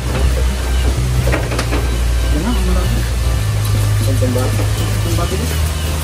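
An electric water pump motor hums steadily throughout, connected to a water hose setup, a constant low drone running beneath people talking nearby.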